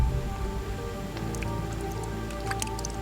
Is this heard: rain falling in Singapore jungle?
yes